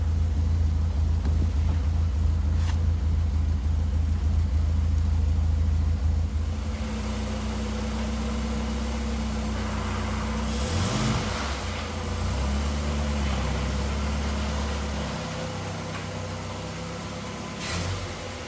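A vintage Morris Minor 1000 engine runs steadily at idle, a low continuous rumble heard up close. The pitch shifts slightly partway through, and there are a few brief knocks.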